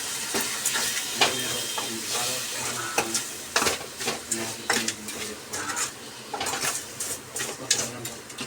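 Tomatoes and onions fry in a pan for an egg and drumstick curry, with a spoon scraping and stirring in repeated strokes over a steady close sizzle.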